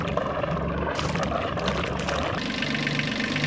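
A Yanmar 3YM30 three-cylinder marine diesel, once hydrolocked and now fitted with an air filter, idles on a boat at anchor, a steady low throbbing chug that runs without pause at close range.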